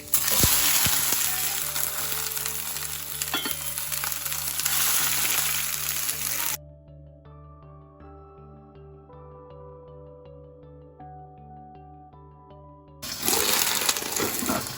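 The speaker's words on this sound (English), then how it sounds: "Once the garlic is a little bit tanned, which is already happening because the pan was hot, you're going to then put the Yuchoy in." Yu choy and garlic frying in a very hot pan give a loud, steady sizzle, broken in the middle by a quieter stretch with clear musical tones before the strong frying hiss returns.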